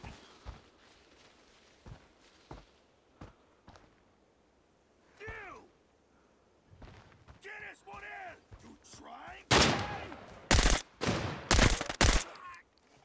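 Gunfire in the Arena Breakout shooter, including a VSS rifle: scattered distant single shots and footsteps, then bursts of loud, rapid automatic fire close by toward the end.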